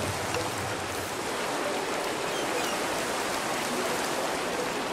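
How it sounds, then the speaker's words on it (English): Steady rain falling in a Minecraft server world, a continuous even hiss of downpour heard alone at moderate loudness with no talk over it. "And it's raining now."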